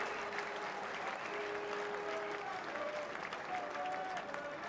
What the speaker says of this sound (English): Listen to the cheer and the respect, actually, from both sets of supporters.